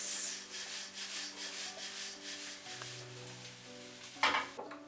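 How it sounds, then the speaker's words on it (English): Veg fried rice is tossed in a hot pan, a close, steady scraping sizzle of rice shifting against metal over a faint hum, ending in a brief louder clatter. "You should actually try tossing it rather than using more of spatula like this"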